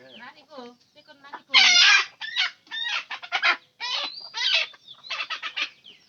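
Chickens cluck and squawk in loud, agitated bursts as they are chased, with rapid, overlapping calls close by.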